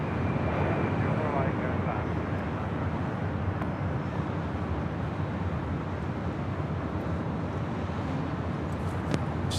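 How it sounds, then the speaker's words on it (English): A heavy Korean Air Boeing 747 on short final into LAX runway 24 right, a loud, steady broadband jet roar that holds without letup, with wind buffeting the microphone throughout. "Heavy Boeing 747 short final"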